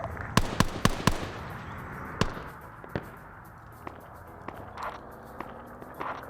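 Scattered gunshots crack during a Vietnam-era airbase sabotage battle in a military video game, with a quick cluster of sharp reports at first and then sparser, more distant single shots over a low ambient rumble.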